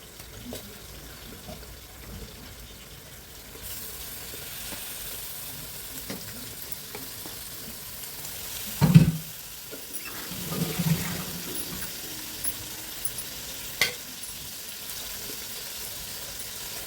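Katta fish fry in a pan of masala with ginger-garlic paste, cumin powder and garam masala, giving a steady quiet sizzle broken by a few spoon scrapes and clinks while it's stirred.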